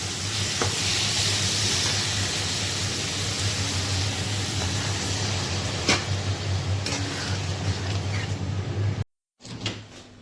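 Potato, onion, tomato, sugar and chili powder frying in a pan, a steady broadband sizzle throughout with a few light clinks of stirring, briefly cut off near the end before resuming faintly.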